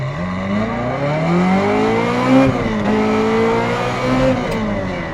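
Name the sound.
Ferrari F355 Challenge car accelerating with aggressive 1-2 shift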